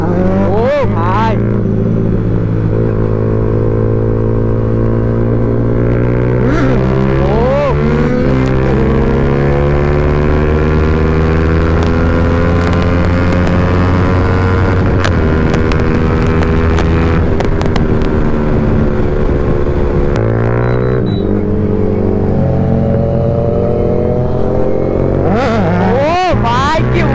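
A Kawasaki Z900 motorcycle revs hard during a wheelie, its loud engine climbing and falling through repeated throttle sweeps, close up and dominating, with people talking intermittently over it.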